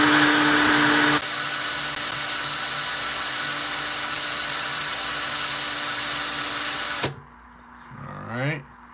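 A rotary tool polishes a pure copper ring at a higher grit, a steady high-pitched whine running loud and continuous for about seven seconds before cutting off abruptly, followed by a brief quieter rising sound.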